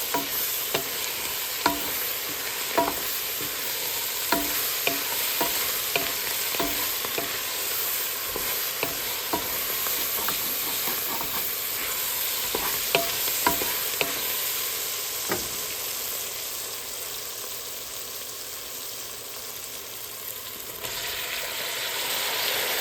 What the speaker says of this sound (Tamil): புதினா இலை, மல்லி இலை எல்லாத்தையும் போட்டு வதக்குவோம்.